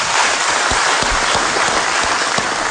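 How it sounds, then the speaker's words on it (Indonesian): A presidential debate audience claps for the moderator, loud, dense and sustained applause with scattered sharper individual claps throughout. "Kita beri tepuk tangan untuk moderator"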